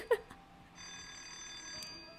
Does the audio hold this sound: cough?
no